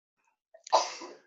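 A single sharp sneeze, preceded by a brief intake of breath, close and alone against silence.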